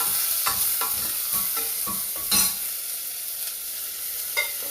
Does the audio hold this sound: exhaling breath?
no